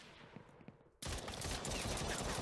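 Rapid, dense pistol gunfire in Warframe, a dark, scary-styled session, bursts into a loud continuous volley after a quieter second of game ambience.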